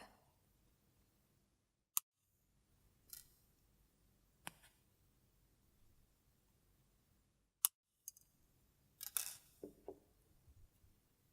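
Wire cutters snip the tails of jewelry wire on a beaded bracelet, giving a few sharp, isolated clicks spread out over quiet, close and faint, with soft handling noise between the cuts.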